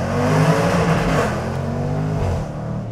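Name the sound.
Jaguar F-Pace SVR engine revving into the rev limiter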